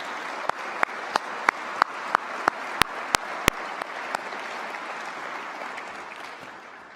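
A university convocation audience applauds its employees; a broad wash of clapping with a few sharp, distinct claps standing out, gradually fading toward the end.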